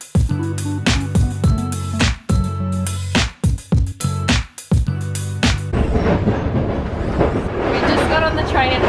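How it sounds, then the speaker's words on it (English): Old retro sleeper train travelling from Bulgaria to Turkey, heard from inside a private cabin: loud rumbling and rattling run on throughout, with a person speaking over the noise for most of the stretch. "We just got on the train and it's a little bit loud"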